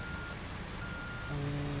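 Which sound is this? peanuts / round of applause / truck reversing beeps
truck reversing beeps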